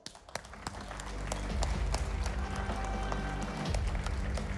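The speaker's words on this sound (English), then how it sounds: "give them a big round of applause." Crowd applause builds at an ASUS ROG gaming presentation in 2017, rising from a few scattered claps into sustained clapping with a low rumble of music or stage sound underneath, then easing slightly near the end.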